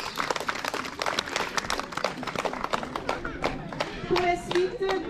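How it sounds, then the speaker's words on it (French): Spectators clap at a bird of prey show at the Rocher des Aigles in Rocamadour, France: scattered, irregular outdoor claps that thin to a few separate hands, with voices and a brief whistle-like tone near the end. "Vous pouvez applaudir"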